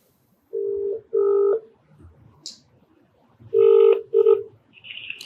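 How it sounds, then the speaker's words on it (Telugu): A phone call being dialed: a run of short, clear keypad tones in quick groups, with a few soft clicks and a brief higher tone between them, fairly faint and close. "ఒకసారి కాల్ చేస్తానండి"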